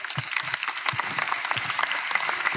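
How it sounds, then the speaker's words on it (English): An audience at a mindset seminar gives a short, lively round of applause, with dense clapping holding steady throughout. "everyone a big round of applause"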